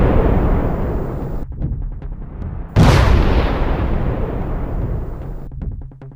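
Bomb thrown in a narrow lane, landing on a roadside cart: a sudden loud blast midway cuts through steady crackling background noise and fades into a long rumbling wash, with no talking.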